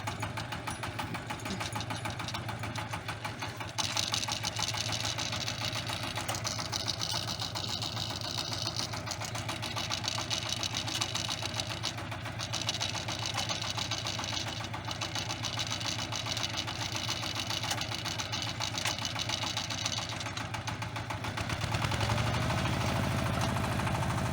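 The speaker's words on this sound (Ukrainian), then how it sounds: "Такий культиватор ми зробили самі до цього тракторця." A small tractor engine pulling a homemade cultivator runs steadily and noisily with a continuous knocking drone, close by and unbroken throughout, with no voices.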